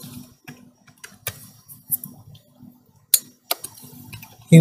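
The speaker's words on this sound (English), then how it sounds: "So here you have to type" Typing on a computer keyboard, a few scattered clicks and taps at irregular intervals, close but fairly soft, with quiet pauses between keystrokes and a louder knock at the very end.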